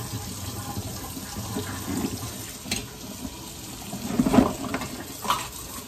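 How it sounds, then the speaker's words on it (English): Water runs in a kitchen sink during rinsing, a low steady splashing stream with brief clinks and spatters, nearby and moderately loud. "I'm just gonna rinse out this stuff right here in the sink"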